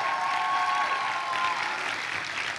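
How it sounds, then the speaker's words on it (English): Applause from the audience at an opening ceremony, right after a musical performance: dense, steady clapping that stays loud and fills the space throughout, with a faint tonal note fading out under it. "Let's give them a round of applause, please."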